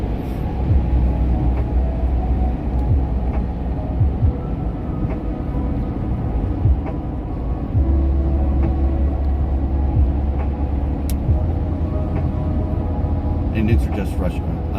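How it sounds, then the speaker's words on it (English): Heavy morning road traffic rolls past as a continuous low rumble, with a louder vehicle surging by partway through and no break in the steady drone. "The traffic's intense this morning."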